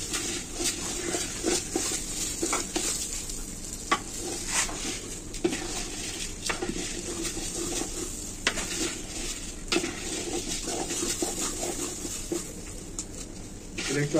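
A wooden spoon stirs rice being lightly fried in a pot over a clay stove for biryani, with steady scraping, knocking and a soft sizzle heard close up over several seconds, with faint talk in the background.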